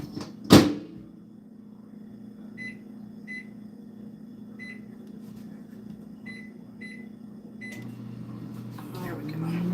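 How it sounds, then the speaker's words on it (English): A microwave oven hums steadily while melting butter, with a door clunk at the start and a series of short electronic beeps from the keypad, all close by. "we're going to throw this in the microwave and get that butter all nice and melted"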